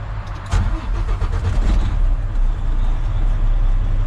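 A training truck's engine cranks and catches about half a second in during a safety start check, then settles into a loud, steady low idle rumble close by, with no one talking.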